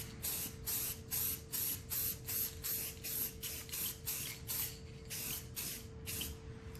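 Rapid bursts of spray paint hiss onto an R2-D2 dome in light coats, about a dozen short even puffs close up in a steady rhythm, with no voices.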